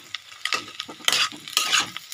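Chicken frying in a pan, stirred with a spatula: close, bright sizzling with short scraping strokes that swell in bursts over a couple of seconds, no talk.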